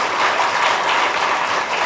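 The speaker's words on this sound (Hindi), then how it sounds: "एक बार तालियां बजा के इनका स्वागत करते रहिए।" Teachers at a training camp applaud to welcome an instructor, continuous brisk clapping from a gathered group, loud and close throughout the short stretch.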